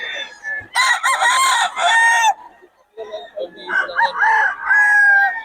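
A bullstag gamecock crows loudly and close by in several harsh bursts with short gaps between them.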